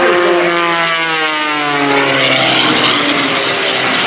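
A 380-horsepower aerobatic propeller airplane tumbling at an airshow, its engine droning loud and steady with the pitch sliding downward as it maneuvers overhead.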